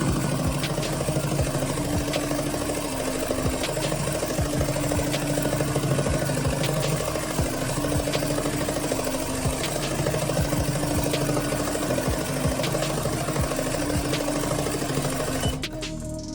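An embroidery machine runs steadily through fill stitches, its needle chattering in a fast, even rhythm over a constant motor hum, close and loud throughout with no talking.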